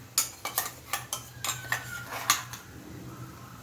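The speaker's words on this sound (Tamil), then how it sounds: "போட்டு நல்லா கிண்டி விட்டுருவோம்" A metal spoon stirs ground coconut into a simmering kulambu, making repeated clinks and scrapes against the pot in a quick, uneven rhythm that fades toward the end.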